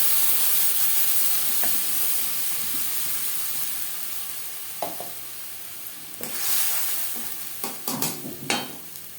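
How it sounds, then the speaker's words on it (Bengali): Whole cumin seeds fry in hot oil in a pan with a soft, steady hiss, then a few louder pops and clatters of stirring toward the end. "ফোড়নে দিয়ে দেব গোটা জিরে পনেরো কুড়ি সেকেন্ড জিরে ভেজে নেওয়ার পর দিয়ে দেবো মশলাতে"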